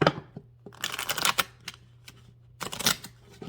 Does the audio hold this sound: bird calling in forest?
no